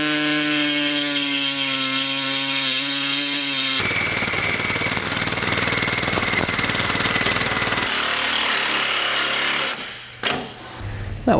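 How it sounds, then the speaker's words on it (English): A reciprocating saw cuts a metal piece off a Blue Ox base plate for a 2012 GMC Terrain, starting as a steady high whine, then a loud, rough, rapid buzzing of blade on metal, ending with a few short bursts. "We're going to trim this using a reciprocating saw."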